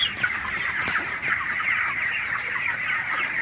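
Broiler chickens cluck steadily and close together, one of about ten thousand birds on a poultry farm, forming a dense continuous chatter with no talking.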